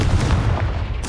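A Confringo fire spell bursting in Hogwarts Legacy: a loud, close, booming blast with a heavy low rumble that fills the short moment, with no talking.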